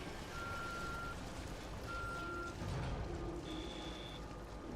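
Electronic beeping from The Evil Within: a few evenly held tones sound one after another over a dense, noisy game background, with no voices.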